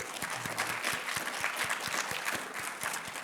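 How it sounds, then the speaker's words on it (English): Applause from an audience at a white coat ceremony and honor society induction, a moderately loud, sustained patter of many clapping hands with some individual claps standing out. "you all, as our honorees tonight, deserve a round of applause"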